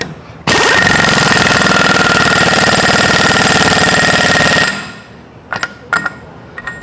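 High-torque impact wrench with a weighted socket, working on a 1970-era VW sand rail's disc brake hub: one loud sustained rattling hammer burst of about four seconds, close up, ending abruptly, followed by a few faint clanks.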